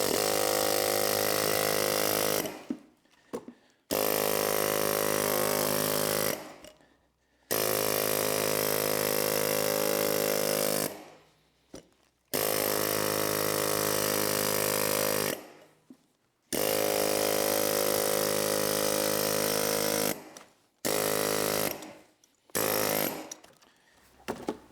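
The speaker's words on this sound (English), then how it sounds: "just with an air hammer" An air hammer cuts an electric motor in half for its copper. It runs in long, loud, harsh bursts of rapid pounding, split by short pauses, close up and with no voices.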